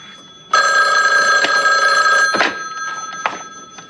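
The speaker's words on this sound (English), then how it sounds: "Forget the phone." Old-style telephone bell rings loudly and close for about two seconds with a steady metallic trill, then cuts off as a handset is lifted, leaving faint room noise and a brief clunk.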